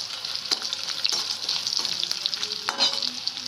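Green chillies, dried chillies and cashews frying in hot oil in a pan, a bright continuous sizzle broken by sharp spatula clicks and scrapes at irregular intervals.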